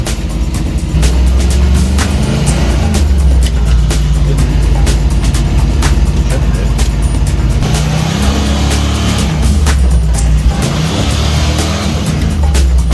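A 1984 Jeep Grand Wagoneer in four-wheel drive runs with a steady, loud low engine drone throughout, its pitch wavering slightly as it moves, with no talking over it.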